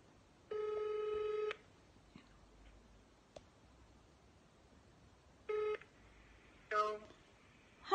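A telephone ringback tone plays while a call is placed, with two long buzzing rings and a shorter third, separated by quiet gaps and followed by faint clicks.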